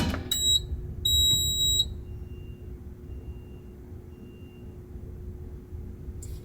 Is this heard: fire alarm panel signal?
yes